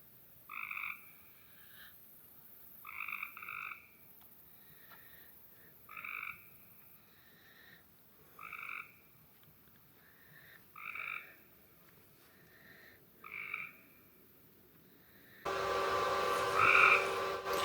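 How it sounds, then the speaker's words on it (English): Frogs and toads croak at night in an Appalachian rainforest camp, sounding as regular bursts of close calls about every two seconds, with quiet surroundings between them and a brief louder noise at the end. "right now we're enjoying the toads, frogs, other critters."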